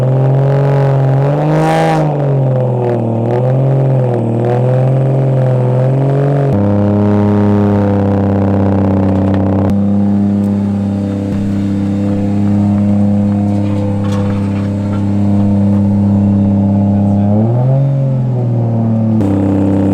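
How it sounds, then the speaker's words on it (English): A car doing a burnout on a burnout pad, engine roaring loud and close with sustained high revs that rise and fall in waves, a steady droning rumble throughout. "He's on the burnout pad."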